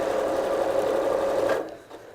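A sewing machine runs steadily while stitching quilt pieces, a close, loud, even whir that stops abruptly near the end, with no talk.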